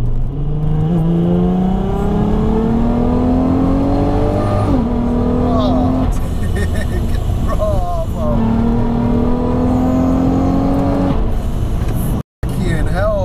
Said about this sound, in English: Do you want to give me a little blip, show me what it's about?